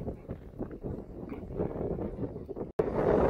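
Wind buffets a microphone on an open hillside walk on the South Downs, a steady low rumbling roar throughout, briefly cutting out near the end before returning louder.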